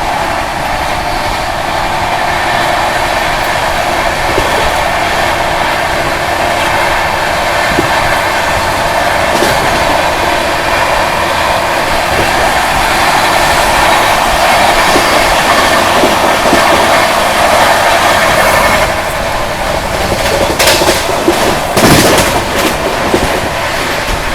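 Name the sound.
Rajdhani Express train overtaking the Udhampur Durg Superfast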